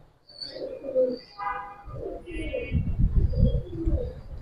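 Giribaz silver pigeon, a mature male with a black crest, cooing in low repeated throaty phrases close by, with a few brief higher chirps from other birds in the loft.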